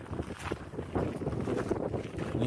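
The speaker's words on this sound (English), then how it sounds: "Really windy." Strong wind roars and buffets the microphone on an open lava field walk, a continuous loud gusting rumble with no voices.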